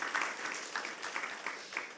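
A small church congregation claps during a Sunday morning service, a light, uneven patter of hands heard at a modest distance.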